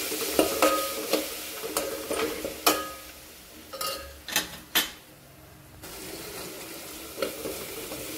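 Spices with red chili powder and turmeric tossed into hot tempering oil, bursts of crackling sizzle and scraping stirs in short irregular surges, close by, with no voices.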